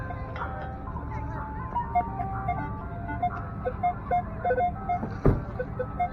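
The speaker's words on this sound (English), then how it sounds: "hopefully we'll get far away from this ice cream man behind me" An ice cream truck's tinkling melody plays some way off outdoors, repeating its simple tune beneath low background rumble, with a sharp knock near the end.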